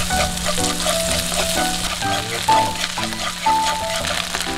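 Salted egg stir-frying in a generous amount of oil in a wok, a continuous close sizzle with clanking stirs, heard against light background music.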